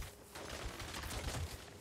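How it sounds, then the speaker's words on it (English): Gunfire in the video game Saints Row, a short dense burst of shots with no gaps, heard at moderate volume. "I'm shooting him."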